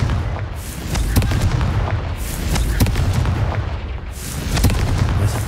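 Confringo explosion spell in the video game Hogwarts Legacy, cast at vases around a statue: a dense, rumbling series of booming blasts and crackling bursts, loud and close, repeating over several seconds.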